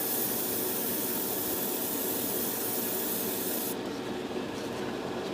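Metallic spray paint hisses steadily from an aerosol can onto a Revell Colonial Viper Mk. II model kit canopy in one loud, continuous burst that cuts off sharply near the end, leaving a softer hiss.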